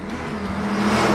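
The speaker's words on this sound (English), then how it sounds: "He jumped into his car and sped off on a predetermined route." A car speeding off as a sound effect in an audio drama: a steady engine roar with a whirring drone that swells slightly, loud and close, with no voices.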